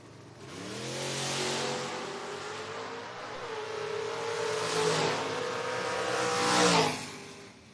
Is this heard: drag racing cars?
yes